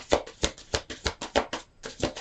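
Tarot cards being shuffled by hand in a steady run of about seven crisp riffling bursts, close and clear with no talking.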